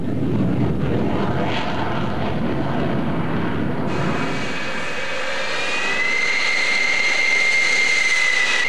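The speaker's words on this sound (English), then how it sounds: "The Phantom has traveled hundreds of millions of miles around the world in the cause of freedom, and they are still taking off." A Kansas Air National Guard F-4 Phantom jet fighter takes off at McConnell Air Force Base in Wichita, a loud roaring rumble that shifts into a rising, piercing jet whine as the aircraft accelerates.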